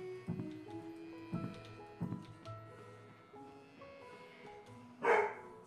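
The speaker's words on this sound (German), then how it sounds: "Hunde." Dogs in the Coral Island farming video game let out a few short, moderately quiet barks spaced about a second apart, followed by a louder burst near the end, set over soft game music.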